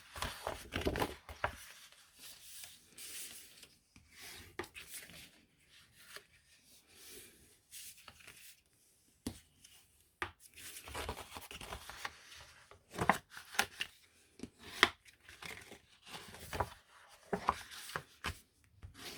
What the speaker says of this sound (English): So I'm just folding and burnishing the long side first.